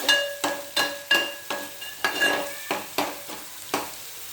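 Ground masala paste frying in oil for kalaji masala fry, with a steady sizzle punctuated by a rhythmic series of about a dozen scraping stirs and clinks of a spoon against the pan, close and fairly loud.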